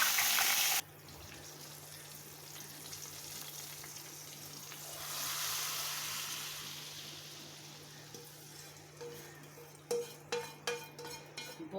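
Cumin seeds and chillies sizzle and crackle in hot oil for a moong dal tadka, a steady close frying hiss that swells midway, followed by a few sharp metallic clinks of utensils near the end.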